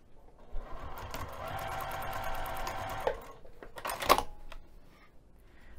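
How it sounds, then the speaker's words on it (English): A sewing machine runs steadily for about three seconds stitching down a strap, a fast mechanical whir, then stops with a couple of sharp clicks and handling sounds. "let's take this over to the sewing machine and sew that down using an 1/8 inch seam allowance."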